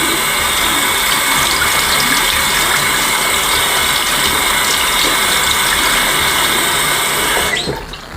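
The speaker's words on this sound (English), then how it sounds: "we can rinse both these parts underwater" Running water rinses the detachable parts of a Philips Norelco Multigroom Series 7000 beard trimmer, a steady loud hiss of flowing tap water with faint clicks of the plastic parts, cutting off near the end.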